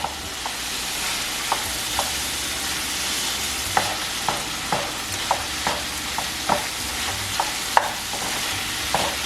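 Shepherd's pie filling with tomato paste being stirred in a pan, a spoon scraping in regular clicks over a steady sizzle, close and alone without talk.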